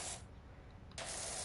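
A pressure washer sprays water in a loud, close, steady hiss that drops back briefly and then surges again at full force.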